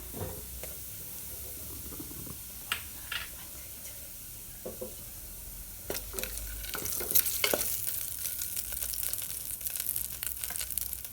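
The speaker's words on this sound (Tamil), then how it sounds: "இப்போ நம்ம பொடிச்சு வச்சுருக்கக்கூடிய கரம் மசாலா பட்டை சோம்பு கிராம்பெல்லாம் சேர்த்து மடிச்சு வச்சுக்கூடியதை இதில் சேர்த்துடலாம்" Whole spices and ground garam masala with cinnamon, fennel and cloves frying in hot oil for a green chilli mutton curry, giving a steady close sizzle broken by occasional sharp crackles and stirring clinks, louder in the second half.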